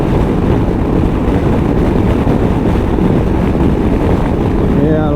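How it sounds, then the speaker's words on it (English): Strong gusts buffet a rider on a 2019 Honda CB500X motorcycle, a loud, dense roar of wind on the microphone mixed with engine rumble, steady and close throughout. "Yeah, a lot of strong wind today again. A lot of buffeting, yeah."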